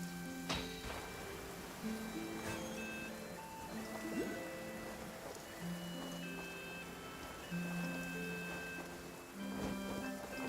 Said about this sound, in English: Rain arrived.